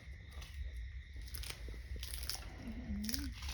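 Crispy fried pork being bitten and chewed up close, giving a few crisp crunches over a low background rumble, with a brief voiced tone near the end.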